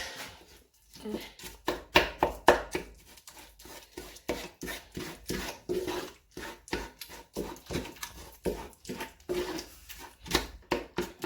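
Goat head pepper soup being stirred by hand after goat brain is added, making irregular bursts of wet clattering and scraping in a pot, close up with pauses between strokes.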